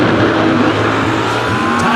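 Corvette funny cars race at a drag strip during Saturday eliminations at Mo-Kan Dragway, a loud sustained engine roar with shifting whining tones throughout, heard without speech.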